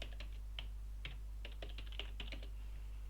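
Light, irregular clicks of typing on a computer keyboard, close and fairly quiet over a steady low hum, with no talk.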